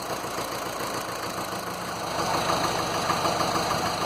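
A Land Rover Series 2a 88 with a 2.25 litre diesel engine idles steadily with a low rhythmic diesel knock, close up, growing slightly louder halfway through.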